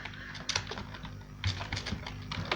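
Typing on a computer keyboard while writing HTML, quick irregular bursts of close key clicks with brief pauses between them, no talking.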